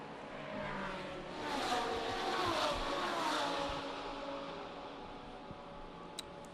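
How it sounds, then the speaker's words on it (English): GT Cup race cars roll out of the parc fermé and paddock onto the grid at Macau, engines droning and revving at a distance as a muffled wash of several cars swells and then fades. "Cars just coming out of Parc Fermé and the paddock and getting ready to line up on the grid."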